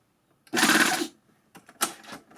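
A Baby Lock combination overlock machine with a blind hem foot stitches in a close, loud half-second burst, then runs again in a few shorter, fainter spurts.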